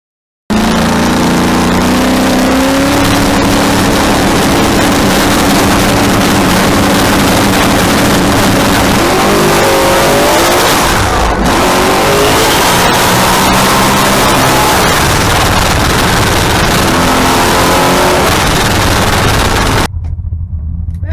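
Nissan Skyline race car on a drag strip, a loud, continuous engine roar that climbs through repeated rising gear sweeps for about twenty seconds before cutting off abruptly.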